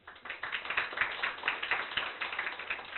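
An audience applauds at an intercollegiate summer internship project competition, a steady, dense patter of many hands clapping that carries through the whole stretch without pause.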